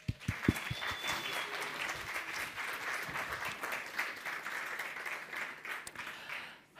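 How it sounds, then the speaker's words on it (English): An audience at a Squarespace masterclass on sales-driven websites claps to welcome a speaker to the stage, a few sharp claps opening into steady, moderately distant applause that holds throughout. "please welcome Victoria to the stage with a round of applause"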